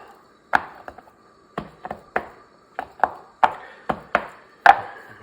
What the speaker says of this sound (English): a good way to get your edges is just sop it up on your cutting board